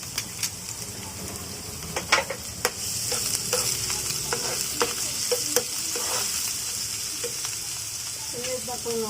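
Garlic and onion sauté in a hot pan with a steady, soft sizzle, broken by scattered clacks and scrapes of a utensil stirring, fairly quiet and close with no talk.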